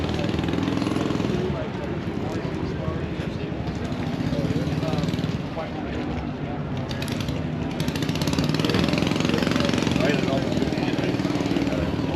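Twin Hemi engines mounted to one transmission with four blowers give a loud, steady roar with a deep, rumbling throb, close by and continuous, swelling slightly toward the end.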